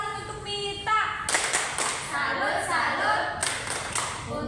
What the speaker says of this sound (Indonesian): Kasih tepuk salut dulu untuk Mita